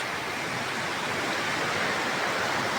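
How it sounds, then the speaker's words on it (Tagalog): Ocean waves at the beach in San Juan, La Union, a dense, continuous roar of surf that fills the whole stretch, loud and unbroken with no voices. "Ayan na yung alon. Ayan ang alon. Nagsasayawan ng mga alon."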